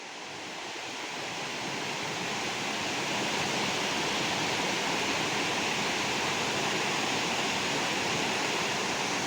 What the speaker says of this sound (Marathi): म्हणजे बोललो ना वरून पाणी येतं तिकडून